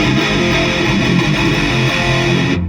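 Electric guitar, a BC Rich, plays through an Ibanez Toneblaster Xtreme amp at its regular channel setting with reverb off, giving a dense, steady, distorted wash that cuts off abruptly at the end.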